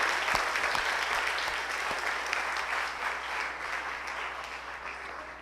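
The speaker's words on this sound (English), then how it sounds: "Give a big round of applause to the girls." An audience claps for winning girls after a game, a sustained, even burst of applause from a sizeable crowd with a few sharper individual claps near the start, fading gently toward the end.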